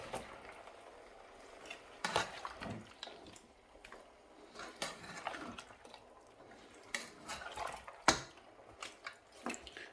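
Browned mutton for achar gosht being stirred with ginger garlic paste in a small pan, giving wet squelching scrapes and clinks in irregular bursts close by.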